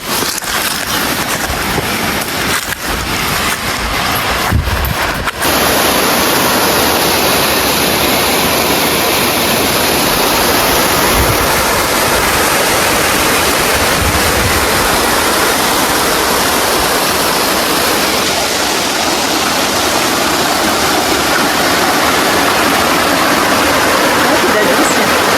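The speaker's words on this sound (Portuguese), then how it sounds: "Estamos próximos da cachoeira do Triângulo." A loud, steady roar of rushing water fills the whole stretch, broad and constant from the nearby Triângulo waterfall in Serra da Canastra, Brazil, with some handling noise at the start.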